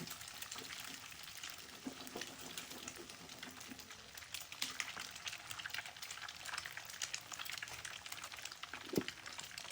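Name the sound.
beaten egg being stirred and fried in a pan for fried rice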